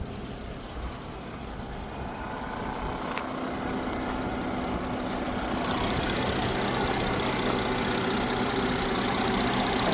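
A naturally aspirated 3.5-litre V6 in a 2012 Mercedes E350 Wagon with 319,000 km idles under the open hood, a steady, even hum that grows slightly louder and holds, with no voices.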